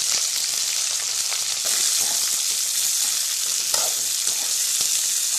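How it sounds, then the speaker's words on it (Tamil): Chopped onions sauté in hot oil for tomato kulambu, making a dense, steady hiss of frying up close with faint stirring clicks now and then. "நறுக்கிய வெங்காயத்தை போட்டு நல்லா வதக்கிக்குங்க."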